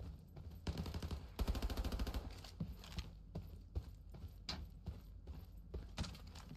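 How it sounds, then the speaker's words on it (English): Gunfire in a shooter game where an AKS-74N is in play comes as rapid bursts of automatic shots, then scattered single cracks and short volleys at moderate distance. "They're shooting you."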